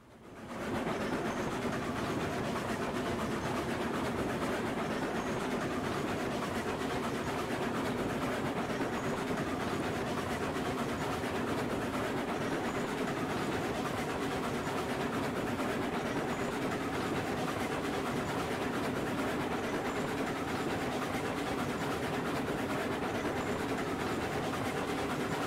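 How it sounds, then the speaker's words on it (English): A steam train in the Railroads Online video game labours up a steep grade, giving a continuous loud rumble and rolling clatter that holds steady for the whole stretch after a quick fade-in. "I don't even know if I can pull this train up."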